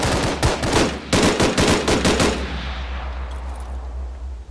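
Gunfire in Arma 3 (Breaking Point mod): a rapid burst of loud, close shots, then a second longer volley of several sharp cracks, fading into a lingering echoing tail and low background hum.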